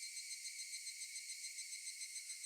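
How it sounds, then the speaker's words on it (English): Cicadas from the Higurashi When They Cry visual novel give a continuous high, shrill buzzing chorus that pulses in a steady rhythm, faint and unbroken, with no other sound. "Only the cry of the cicadas remained annoyingly loud."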